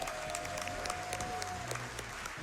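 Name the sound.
applause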